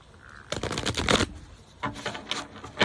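Two bursts of a Marseille tarot deck being shuffled, a longer riffling flutter followed by a shorter one after a brief pause, close and fairly quiet.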